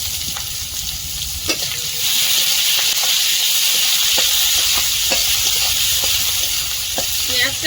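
Garlic, chopped onion and green chilli fry in a pan with a close, constant sizzle. A utensil stirs them with repeated scraping knocks, and the hiss grows louder partway through.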